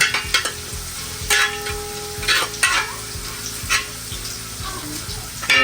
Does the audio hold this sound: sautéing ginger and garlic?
yes